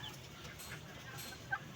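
Chickens kept for breeding clucking softly in a steady, faint background murmur, with one brief sharper note standing out near the end.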